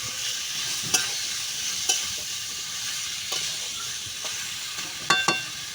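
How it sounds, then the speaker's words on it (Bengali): Meat sears and is stirred in a hot pan, a steady close sizzle punctuated by spaced spatula scrapes and taps every second or so, with no voices. "এবার মাংসটা দিয়ে দেবো। দিয়ে ভালো করে কষে নেব।"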